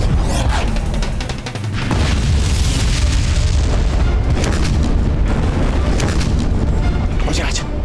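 Battlefield cannon fire in a historical Indian TV drama about Mughal forces shelling Mewar: loud, continuous booming blasts and rumbling explosions layered over one another with no pause.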